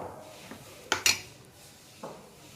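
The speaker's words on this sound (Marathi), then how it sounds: "तवा तापत ठेवला आहे" An iron tawa griddle is set down on a stove with two sharp metallic clanks close together, followed by a softer knock a second later; no talk.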